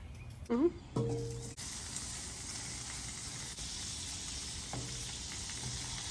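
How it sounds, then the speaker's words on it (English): Slices of pound cake toast on a griddle with a soft, steady sizzle, preceded by a few brief clinks and handling sounds near the start. "Start by toasting some pound cake."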